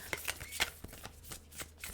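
A large deck of tarot cards is shuffled by hand, giving a quick run of soft riffling slaps and flicks, close and fairly quiet.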